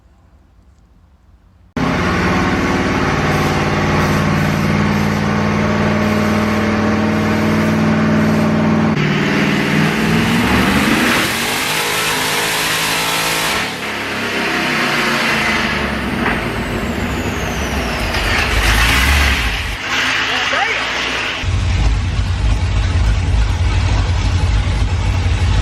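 Race car engine under load on a dyno, a loud, sustained roar that climbs and shifts in pitch across several pulls, with brief drops between, heard close and alone.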